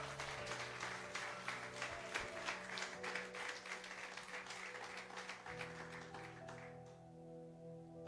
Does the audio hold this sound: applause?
yes